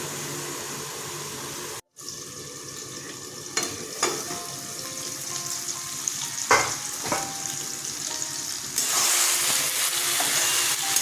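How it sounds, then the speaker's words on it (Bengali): Eggplant pieces frying in hot oil, apparently in a home kitchen while a spiced duck-egg eggplant dish is being made; a steady, loud sizzle runs throughout with a brief break, occasional stirring clatters and a brighter hiss near the end. "বেগুনগুলো ভাজা হয়ে গেছে"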